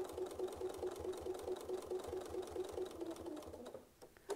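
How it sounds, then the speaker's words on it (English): Sewing machine stitching along a fabric edge, a steady fast mechanical whir with a regular rapid stitch rhythm, close and continuous before slowing and stopping near the end. "I'm just trying to put the needle right on the outside of the existing stitches to make sure that this whole area is nice and closed."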